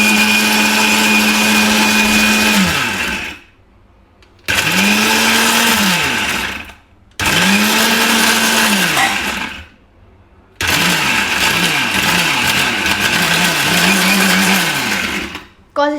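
A kitchen mixer grinder crushing food in loud close bursts, the motor whining up and dropping in pitch as the load shifts, with short pauses where it stops and restarts.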